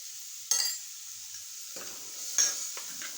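Carrots for carrot poriyal sauté in a pan, with a soft sizzle broken by a few short bursts of stirring and scraping, close and quiet, with no voices.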